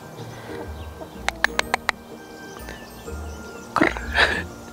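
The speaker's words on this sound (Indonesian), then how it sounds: "Ayam pemirsa, lihat ayam." Chickens in a backyard garden cluck and call in short bursts, with a series of sharp taps beforehand and a louder squawk near the end, close by and with no talk over them.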